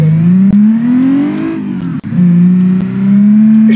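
Simulated car drifting in BeamNG.drive, a loud continuous engine note that rises and falls with revs, a brief dip midway, then a sustained high-revving whine as the car slides.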